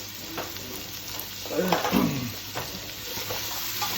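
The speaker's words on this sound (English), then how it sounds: "we're just going to cook these down until they're soft and the raw garlic smell's gone" Onions and garlic fry in a pan, a soft steady sizzle with occasional stirring scrapes and a slight swell midway, heard up close at low volume.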